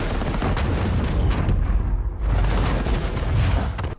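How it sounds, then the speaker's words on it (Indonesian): A large bomb detonates at a fuel depot in a film war scene, a loud roaring blast with rumbling low booms and crackling debris that dips briefly before surging again. "bom yang besar keburu meledak dan kini mulai terasa hingga ke lokasi kasino"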